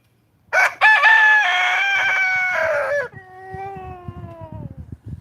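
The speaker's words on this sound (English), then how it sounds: "Why does he do that wind down with his crow? Because if you listen, he crows." A backyard rooster on an urban farm crows once, loud and close, a long bright call that ends in a drawn-out descending wind-down, with faint rustling noise afterward.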